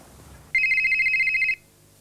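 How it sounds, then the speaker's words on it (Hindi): A telephone in a Pakistani drama rings once with a loud, bright electronic warble lasting about a second, set against a quiet room. "कोई टेलीफोन नहीं सुनना"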